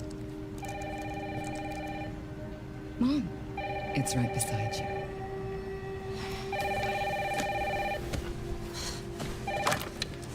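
A household telephone rings in repeated electronic bursts of about one and a half seconds, separated by short pauses, at moderate loudness. People talk between and over the rings.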